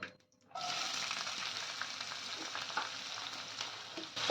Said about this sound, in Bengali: পেঁয়াজটা একটু গোল্ডেন ব্রাউন করে ভেজে নেব